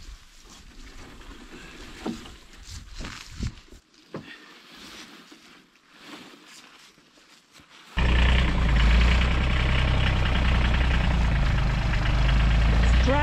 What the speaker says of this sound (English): So Mark's obviously driving slow enough for me to keep behind him